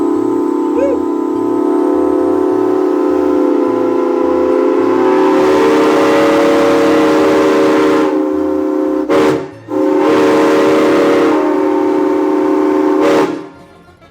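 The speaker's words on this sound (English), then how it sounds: "Getting to hear that whistle was something else." A 1927 Santa Fe Railway steam locomotive whistle sounds long and loud with rich layered tones, broken by a brief gap and a shorter blast, then cut off, over a chugging low rhythm at an outdoor train festival.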